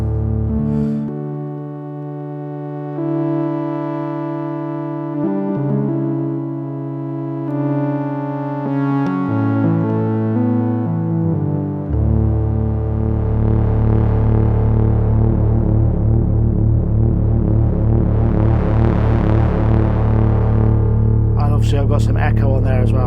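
Dreadbox Erebus 3 duophonic synthesizer playing a riff with ring modulation, LFO pitch drops and echo, sustained buzzing tones shifting in pitch, ending in a dense, throbbing metallic drone with a swelling sweep.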